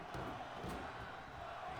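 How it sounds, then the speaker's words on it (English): Arena crowd chanting in the WWE 2K22 wrestling game, a steady, continuous roar of many voices at moderate distance, with no breaks for the brief moment it is heard. "the crowd chanting one more time"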